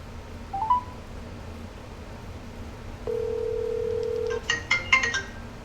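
Telephone call being placed: a few brief tones, then a steady ringback tone for about a second, followed by a cluster of electronic beeps and chimes as the line connects, all fairly clear over a quiet background.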